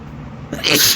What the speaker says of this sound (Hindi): छींक आ गई है